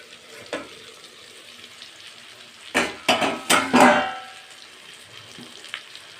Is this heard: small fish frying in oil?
yes